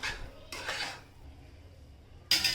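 A utensil scraping cooked vermicelli off the sides of a pan while making seviyan kheer: a few short, faint metallic scrapes, with one sharper clink at the end.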